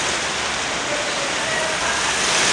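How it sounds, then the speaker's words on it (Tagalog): Heavy rain pours down outdoors, a broad continuous hiss with no gaps, steady and loud and slowly building toward the end. "lakas na ulan"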